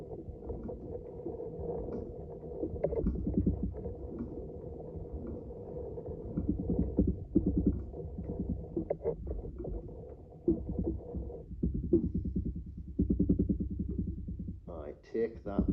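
A refurbished Singer 15-1 (Improved Family) treadle-style sewing machine running steadily, a close low mechanical rumble and rhythmic clatter that continues unbroken, with a brief louder clack near the end.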